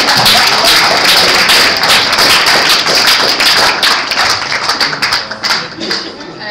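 Sustained applause from a crowd at a student senate meeting, dense and loud clapping that thins out into scattered claps toward the end.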